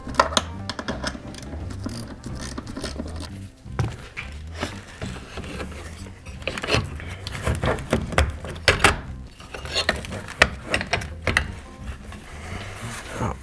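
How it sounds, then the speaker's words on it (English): A small gear ratchet works loose the bolts of a vehicle roof rack, giving rapid close-up runs of mechanical clicking in uneven bursts, with brief pauses and clanks between. "with this gear ratchet, it's so small and itty bitty that I can get right in here and loosen these things"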